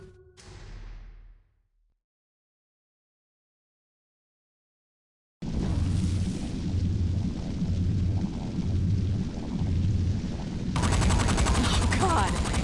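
Flaming-bullet gunfire in Saints Row 4: after a short quiet gap, dense rapid automatic shots ring out continuously and loudly to the end.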